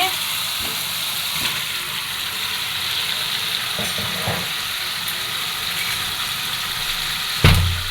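Meat frying in spice masala gives off a loud, continuous close sizzle, with occasional scraping stirs and a heavier clatter near the end.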